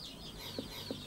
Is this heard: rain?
no